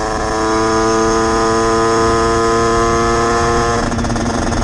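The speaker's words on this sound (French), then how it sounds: "Donc le moteur il gueule." A 2013 Gilera SMT with an 88 Stage6 Big Racing kit and 17/53 gearing drones at high revs in sixth gear around 70, a loud, steady buzzing whine that holds throughout.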